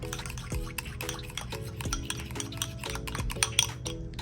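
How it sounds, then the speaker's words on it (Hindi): Botox face mask paste being stirred in a bowl, a steady run of soft scraping strokes with light clinks of the spoon against the rim, close and fairly quiet, no talking. "इसको हम अभी 2-3 मिनट तक इस तरह करते रहेंगे, मिक्स करेंगे अच्छी तरह"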